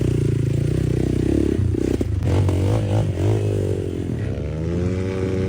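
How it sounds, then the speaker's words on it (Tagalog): Dirt bike climbing a steep dirt trail uphill, its engine loud and close throughout, revving and straining with shifting pitch and some clattering. "isubida na dayon ta atong nasunugan sa motor ni Kinkin"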